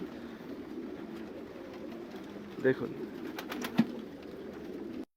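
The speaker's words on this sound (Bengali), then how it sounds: "সুন্দরভাবে কবুতরগুলো বসে আছে" Pigeons coo softly at a pigeon farm as a low, continuous murmur with a couple of louder calls, while a person talks over it.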